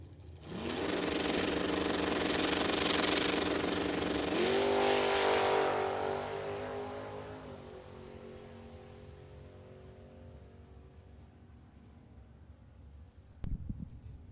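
Ford Mustang drag car launching and accelerating hard down a drag strip at a bracket racing event, a loud roaring engine with rising gear-change sweeps, then fading into the distance.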